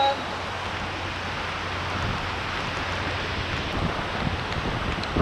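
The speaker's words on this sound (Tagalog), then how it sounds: "Lakas ng ulan!" Heavy rain from a storm on Boracay island pours in a constant dense hiss, mixed with gusting wind and a low rumble of surf, with faint talk in the background.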